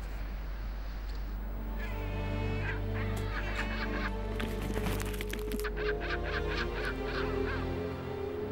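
Penguin colony in Patagonia raising alarm calls at predators near the nests, a dense chorus of loud honking, braying cries from many birds at once, overlapping and continuous.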